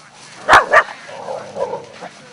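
A dog at a free techno party gives two sharp, loud barks close by, followed by softer whimpering yips trailing off.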